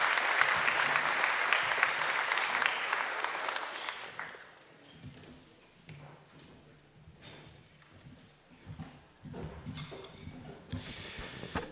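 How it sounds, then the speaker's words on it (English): A crowd at a State of the City event in Desert Hot Springs applauds as Mayor Scott Mattis takes the stage. A loud swell of clapping lasts several seconds, then drops to quiet footsteps and scattered stage noises. "Please give a round of applause and welcome Mayor Scott Mattis to the stage"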